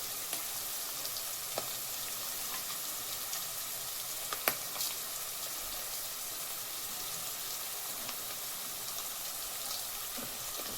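Curry leaves, with some garlic, sizzling in hot oil for a brinjal curry, a steady, even frying hiss throughout with a few faint clinks and pops.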